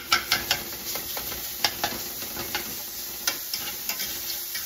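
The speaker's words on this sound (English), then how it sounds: "I'm going to chop it finer, scrape it up" Italian sausage crumbles sizzle steadily in a frying pan while a utensil scrapes and breaks up the meat in repeated sharp taps and scrapes, close and clear with no talking.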